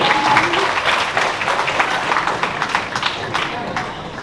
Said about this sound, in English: Give another round of applause to everyone.